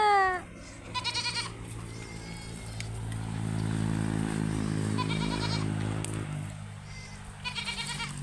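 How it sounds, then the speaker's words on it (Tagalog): A goat bleats loudly and repeatedly nearby, wavering calls at the start, middle and end, with a low engine rumble droning underneath. "Kalakas ng bunganga ng kambing."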